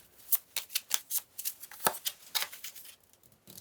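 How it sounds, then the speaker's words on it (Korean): Tarot cards riffled and shuffled in a quiet room, a rapid string of crisp papery flicks and slaps that thin out toward the end as cards are drawn. "말림을 위한 힌트 카드를 2장 뽑아볼까요?"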